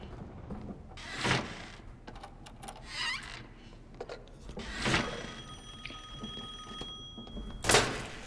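Telephone ringing in the video game Assassin's Creed Chronicles: Russia, coming as separate bursts a second or two apart over a quiet, textured game background.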